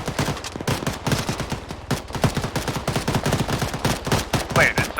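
Rapid bursts of automatic gunfire crack in dense, continuous volleys during a video game, loud and close with barely a pause.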